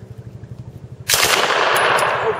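A submachine gun firing a rapid, evenly spaced burst at targets during the Knob Creek machine gun shoot, then a sudden loud blast of sustained noise from nearby shooting that runs to the end.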